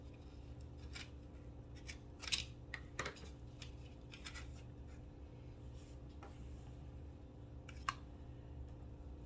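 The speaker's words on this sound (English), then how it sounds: "I'm just going to cut the string off to start." Scissors snip through the string holding Dollar Tree winter craft items together, a few quiet, scattered cuts over a low steady room hum, with no talking.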